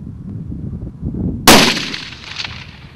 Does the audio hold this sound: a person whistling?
no